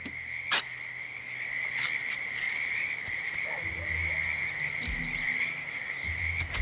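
Frogs calling near a creek in the video game Hitman, a continuous high trilling chorus with insect-like buzz under it, plus occasional low croaks and a few sharp clicks against a soft outdoor ambience.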